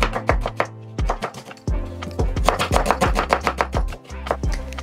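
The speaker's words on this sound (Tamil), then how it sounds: "2 வெங்காயத்தை வெட்டிட்டு போடுறேன்" Two onions chopped with a knife, a quick run of sharp, crisp chops in an uneven but steady rhythm, close and loud, with no talking.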